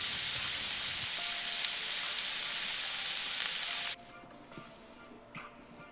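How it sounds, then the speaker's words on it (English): Steady, dense sizzling of yam frying in vegetable oil, loud and close for about four seconds, then cutting off abruptly to a faint low hiss. "Then fry the yam in vegetable oil."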